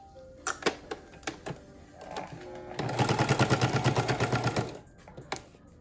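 A sewing machine stitches elastic onto a homemade fabric face mask. A few scattered clicks and knocks lead into a fast, even burst of needle strokes lasting about two seconds, then it stops and handling clicks follow.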